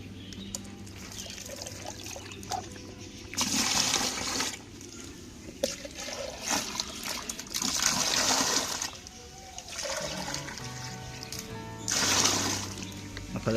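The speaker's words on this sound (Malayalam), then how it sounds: "10 മഗ് വെള്ളം ആഡ് ചെയ്യണേ." Mugs of water poured into a garden fertiliser mix in three separate splashing gushes a few seconds apart, with brief trickles between. People talk nearby.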